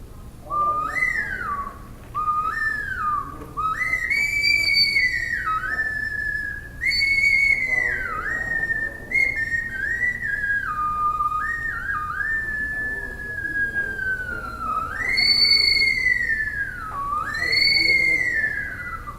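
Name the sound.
whistle being blown, modified with a finger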